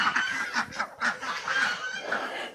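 Chickens in a coop holding a flock of 48 birds on a small farm, clucking and squawking in repeated close bursts that overlap into a busy, continuous chatter.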